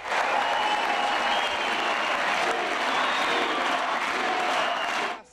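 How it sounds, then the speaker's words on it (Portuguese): Crowd applause at a housing handover ceremony, sustained clapping from many people with a few faint cheers, fading out abruptly at the end. "Já Dilma chegou a ser aplaudida em alguns momentos."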